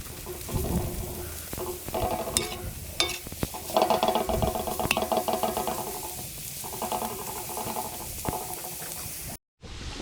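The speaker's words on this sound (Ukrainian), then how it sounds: "Додаємо до нашої пасірованої цибульки морковочку. Все має разом обсмажитися." Onion and carrot fry together in a pan made from a disc harrow blade. There is a steady, close sizzle with scraping stir strokes and occasional clicks, and a brief dropout just before the end.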